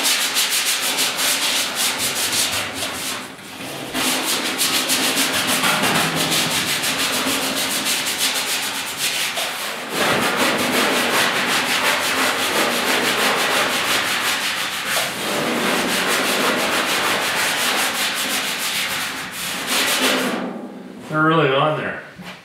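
Brush scrubbing degreaser across the cab roof of a 1956 Mercury truck, steady loud rasping strokes in long stretches with brief pauses, ending with a short burst of other noise.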